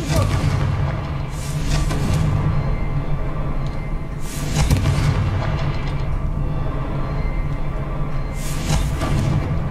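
Confringo fire spell explosions in the Hogwarts Legacy video game, repeated booming blasts roughly every few seconds over a loud rumbling game soundscape, with no talk.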